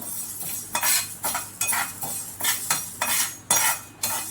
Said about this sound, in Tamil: அப்படியே விடாமல் மிக்ஸ் பண்ணிகிட்டே இருக்கணும் வறுக்கிறதுக்கு